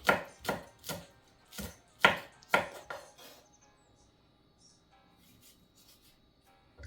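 A knife chops vegetables on a board for a Jamaican pot dish, six or seven sharp, evenly spaced thuds up close, then quiet kitchen rustling with no talk.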